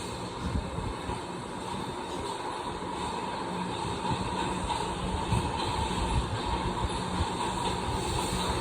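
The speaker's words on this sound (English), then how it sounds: "The train is moving back to the next station" A New York City subway train runs between stations, a continuous rumbling roar with rattling wheels and a steady high hiss, heard from inside the car at an even loud level throughout.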